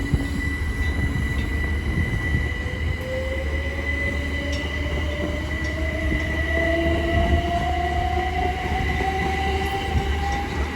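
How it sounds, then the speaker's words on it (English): A Great Northern class 387 electric train departing Cambridge station on the London King's Cross to Ely service. A steady close rumble runs under a rising motor whine and faint wheel squeal, building gradually as the train pulls away. "now departing is the 1404 Great Northern service from London King's Cross to Ely"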